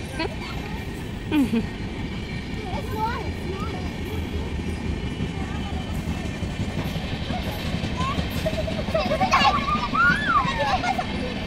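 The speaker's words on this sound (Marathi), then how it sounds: "केवढ्या जवळनं ट्रेन जाते बघा आमच्या घराच्या पाठीमागून" A train rumbles past very close behind a house with a continuous heavy rolling roar, while children's voices chatter over it.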